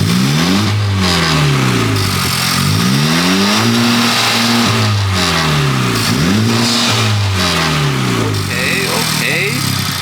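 A Honda Civic FK8 Type R fitted with a Gruppe M intake revs repeatedly, the engine note climbing and falling in loud, close sweeps with an intake roar over a steady drone.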